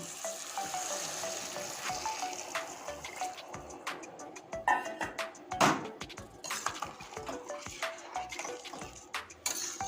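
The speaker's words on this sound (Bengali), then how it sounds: "এখন আমি এখানে ছোলা সেদ্ধ করার যে জলটা ছিল এটাই আমি দিয়ে দেবো গরম জলটা" Hot chickpea-boiling water poured into a sizzling masala pan while cooking vegetarian chana masala, a continuous close sizzle and crackle with scattered clinks of utensils and a few louder splashy bursts midway.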